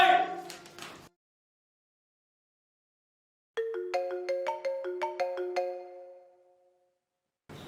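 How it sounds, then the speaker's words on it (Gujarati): A mobile phone ringtone signals an incoming call, a bright melodic chime in quick repeated notes lasting about three seconds after a silent gap. Someone speaks briefly before the gap. "દીકરી ઉર્જાનો ફોન છે."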